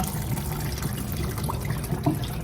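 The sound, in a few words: water poured off blanched peas into a colander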